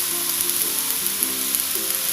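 Garlic flower stems, petai beans and tofu sizzle in a hot pan as they are stir-fried, giving a steady close frying hiss with soft stirring scrapes and no voices.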